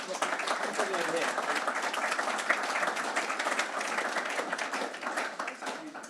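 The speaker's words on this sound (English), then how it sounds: "let's give a little round of applause" An audience at a conference opening address applauds steadily, a dense, continuous wash of many hands clapping for several seconds, even in loudness before tapering slightly at the end.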